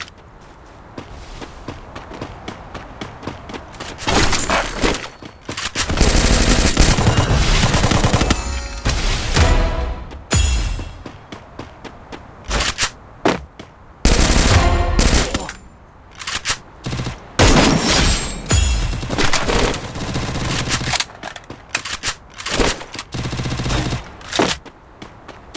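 Automatic gunfire from a mobile shooter game comes in long, loud, rapid bursts separated by short lulls of footsteps and movement, close and dominant throughout.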